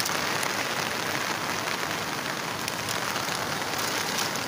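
Strong water rushing from a flooded creek beside rice fields after a storm, a loud, dense, steady roar of churning flow close by, unbroken throughout.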